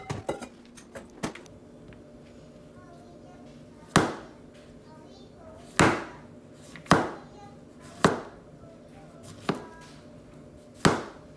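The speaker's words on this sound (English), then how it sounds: "We're gonna chop that one up a bit." Knife chopping summer squash on a cutting board: a series of sharp, separate thunks, about one every second or two, close and clear, with faint background noise between cuts.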